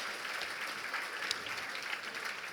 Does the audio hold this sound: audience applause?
yes